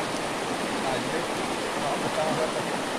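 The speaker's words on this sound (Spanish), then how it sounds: "Está bien fuerte el chorrero ahorita." A strong stream of water rushes and roars steadily and loudly throughout, a dense continuous wash with no pauses.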